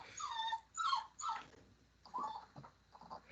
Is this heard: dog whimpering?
yes